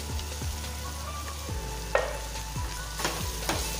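Pavta (field beans) frying in oil with masala for a spicy village-style curry, stirred with a utensil scraping the pan in repeated strokes over a steady close sizzle.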